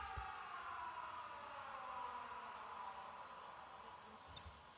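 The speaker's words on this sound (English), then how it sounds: "The sirens." In the video game 13 Sentinels: Aegis Rim, sirens wail steadily in a sustained, slowly falling tone, faint and distant-sounding, with no talk.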